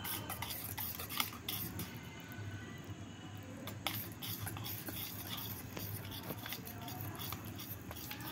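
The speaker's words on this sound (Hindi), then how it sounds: "सारी चीज़ों को अच्छे से मिला लिया है और हमारा बैटर देख सकते हैं आप" Cake batter being mixed with flour in a bowl, a soft, steady scraping and stirring of a utensil with occasional light clinks against the bowl, close and quiet, with no talking.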